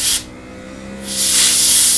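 An airbrush sprays paint onto a Messerschmitt 109K scale model in two close bursts of bright hissing air, a short spray, a pause with a faint tone, then a longer, louder sustained hiss.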